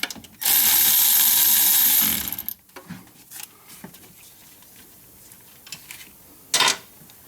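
A ratchet wrench loosens a bolt on a 2012 Chevrolet Silverado during power steering pump removal: one long, fast clicking burst, then faint tool taps and a brief second burst near the end.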